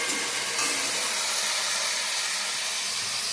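Flat beans frying in a pan for a mustard-paste bean curry make a steady, close hiss of sizzling oil that runs unbroken and evenly loud throughout, with no voices.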